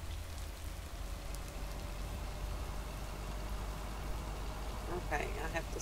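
Steady rain falls in a video game, a continuous even hiss of drops lasting throughout with no pause, moderately loud and enveloping.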